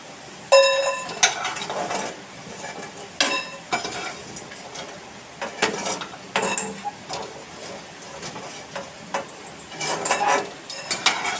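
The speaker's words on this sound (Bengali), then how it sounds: "আর আমি এখন এটা ভেজে নিচ্ছি" Frying in a home kitchen pan, with a soft sizzle running underneath while utensils clatter and scrape against cookware in sharp, irregular bursts throughout.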